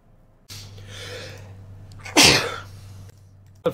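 A single sharp sneeze bursts out after a quick inhaled breath, close and loud, over a low steady hum.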